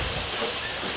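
A continuous hiss of fresh water spraying down a boat, pouring steadily, close and fairly loud, with no pauses.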